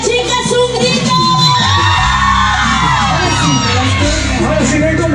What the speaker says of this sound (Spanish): ¡Chicas, chicas, un grito!